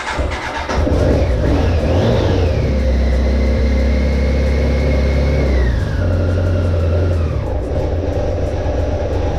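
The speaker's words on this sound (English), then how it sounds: "Yeah, you see it's basically misfiring and doesn't want to idle." A BMW K1200RS motorcycle engine runs loud and close with a rough, uneven idle and audible misfires, while a whining tone climbs and then falls away as the revs change.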